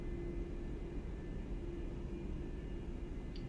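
Boeing 787 Dreamliner taxiing in X-Plane 11, heard as a steady low engine rumble and broadband hiss that holds even and unbroken throughout, with no voices over it.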